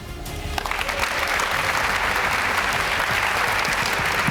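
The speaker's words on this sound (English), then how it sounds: "Second test, clap your hands like crazy." Audience at a startup pitch final and prize ceremony clapping hands like crazy on request, a loud, dense, steady wall of applause that swells in after a brief quieter moment and holds to the end.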